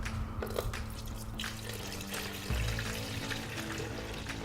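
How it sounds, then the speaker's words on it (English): Liquid is poured off a settled yeast starter in a jar, giving a steady, close trickling splash that grows slightly heavier midway, with no talking. "pour off as much of the liquid as you possibly can"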